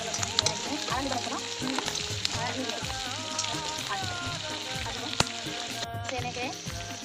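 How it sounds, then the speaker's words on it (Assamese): Fish and potato pieces fry in hot oil with a steady loud sizzle and crackle throughout, broken by occasional utensil knocks, with a voice talking faintly now and then. "আলুখিনি এনেকৈ ভিতৰত দিয়া মানে এতিয়া অলপ ভাজা হয় মাছখিনি আলুখিনি ভাজি দিয়া হ'ব"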